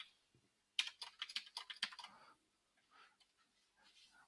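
Fingers tap out a quick burst of keystrokes on a computer keyboard, close and crisp, then trail off into a few lighter scattered clicks in a quiet room.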